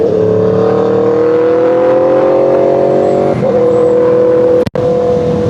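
An Aprilia RSV4 Factory motorcycle engine, rated at 200 hp, revving loud and close with a rising, sustained howl, then a brief dip and a sharp cut before it picks up again.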